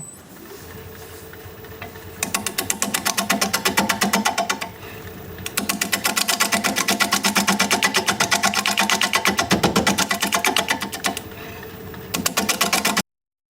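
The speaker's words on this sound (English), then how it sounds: "We're going to be turning at 500 RPM because it is still very out of balance." A wood lathe spins an out-of-balance bowl blank at 500 RPM, throbbing in a loud, steady rhythmic pulse with short pauses where the cutting noise drops away, then resumes.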